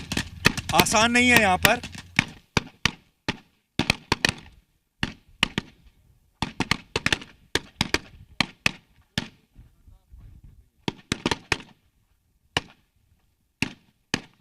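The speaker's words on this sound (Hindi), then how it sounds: "गन शॉट्स आप देख सकते हैं, गन शॉट चल रहे हैं इस वक्त" Gunshots crack during a live battle between the Syrian Army and ISIS, sharp single and clustered reports scattered irregularly at moderate distance, with someone speaking near the start and silent gaps between shots.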